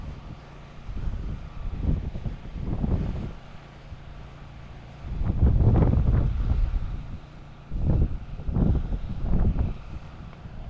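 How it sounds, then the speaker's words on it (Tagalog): Strong wind gusts buffet the microphone in loud, rumbling bursts that rise and fall, with a steady low roar in between. "Lakas ng hangin."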